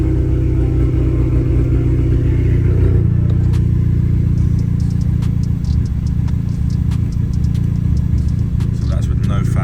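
Audi A3 8P engine running with a steady low idle rumble and hum throughout, a shift in tone around three seconds as it settles, with faint clicks and ticks on top; the idle sounds uneven, consistent with a misfire.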